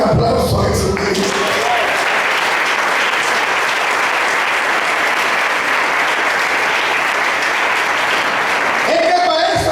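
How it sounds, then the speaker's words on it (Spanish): Loud, continuous applause from a large congregation at a spiritual retreat, a dense roar of clapping filling the space, with a voice briefly heard at the start and end. "Den un aplauso a Jesucristo."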